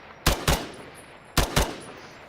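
Two quick double-tap bursts from a rifle in Incursion: Red River, each a pair of sharp close shots with a short pause between them.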